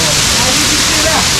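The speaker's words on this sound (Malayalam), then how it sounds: "നമ്മളിപ്പോൾ ഇതിൻ്റെ താഴെയാണ് മെയിൻ വെള്ളച്ചാട്ടം." A waterfall in a hidden Meghalaya village heard from beneath the main fall, a loud, constant roaring wash of falling water, up close and unbroken.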